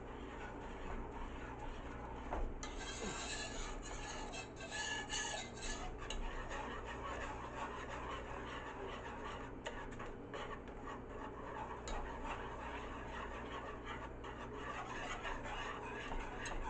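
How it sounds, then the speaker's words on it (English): A spoon stirring melted peanut butter and chocolate in a hot pan, a continuous soft scraping and rubbing with occasional light clinks, steady and close for the whole stretch. "We want to stir it up really,"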